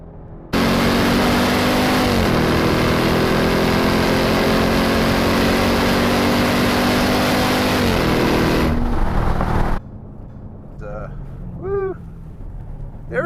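A 2021 Dodge Durango SRT Hellcat roars loudly around a race track, its engine note droning and climbing with brief dips at shifts, then cuts abruptly to a quieter interior where a voice speaks.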